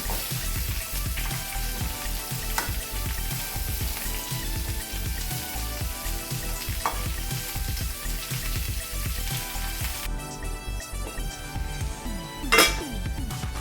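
Sliced onion and bitter gourd cook together in a pan with a continuous dense sizzle that holds steady throughout, then a brief metallic clink near the end, with no voices.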